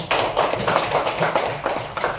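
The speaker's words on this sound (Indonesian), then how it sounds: "Bagus, tepuk tangan" Children in a second-grade classroom clap together in a quick, rhythmic burst, loud and close, with the beats running evenly through the whole stretch and no talk over them.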